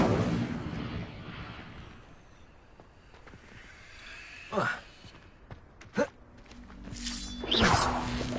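A fire spell cast in a wizard setting: several sudden whooshing bursts, one short and sharp, then a broader roaring flare near the end, over a low rumbling background.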